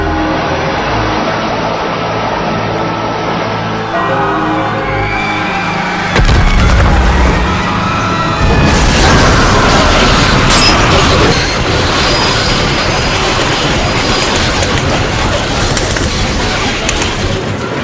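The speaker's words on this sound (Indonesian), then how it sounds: "setelah kejadian tabrakan dua lokomotif, semua warga melihat dua lokomotif hancur akibat adu banteng" Two locomotives colliding head-on in a video game, with a loud metallic crash and rumbling booms breaking through a steady mechanical drone, followed by sustained crunching and roaring debris noise.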